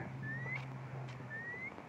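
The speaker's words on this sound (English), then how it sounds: "Hear that bird?" Two thin rising whistled calls, each a single upward sweep, sound over a steady low hum and outdoor background noise.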